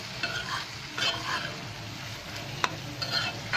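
Onions frying in a pan with torn bay leaves, cinnamon and cardamom for a goat brain curry, giving a steady sizzle with a few spatula scrapes and one sharp clink, no talking.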